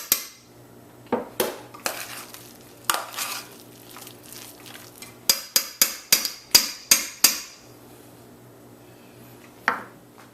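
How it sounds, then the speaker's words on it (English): A hand potato masher works through a pot of boiled cassava, producing sharp, irregular knocks and a quick cluster of rhythmic thumps against the pot over a quiet background, with no talking. "Using some good elbow grease in my masher, I mashed it up for about 3-4 minutes."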